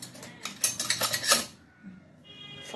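Metal spoons and forks clink and rattle as they are gathered up in a quick burst of bright jangling, then things go quiet, with a faint clink at the end.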